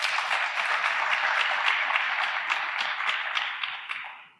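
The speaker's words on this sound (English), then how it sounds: "Let's give her a round of applause." Audience applause for a trustee emeritus at a St. Louis workforce report event, a full, even burst of clapping that holds steady before tapering off at the end.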